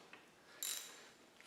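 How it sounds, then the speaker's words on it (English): A ratchet wrench loosening 9/16 bolts on the engine cover of a Model T Ford, heard as one brief close metallic clicking burst amid quiet room tone. "Let's get our ratchet here."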